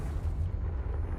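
A deep, sustained rumbling blast from the Confringo explosive spell in the Hogwarts Legacy video game, booming steadily and loudly throughout with no other sounds on top.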